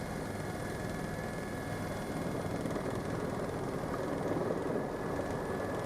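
A helicopter taxiing out to a runway near Stockholm, heard as a steady, even cabin drone of engine and rotor with constant broadband noise and no pauses.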